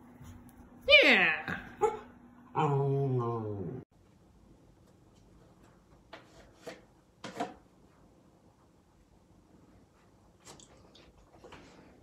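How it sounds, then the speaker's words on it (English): A female Mini Australian Shepherd lets out a loud, rising whine and then a drawn-out, whimpering howl close by. Quiet follows, broken by a few faint soft noises. "We have an Australian Shepherd Mini right here."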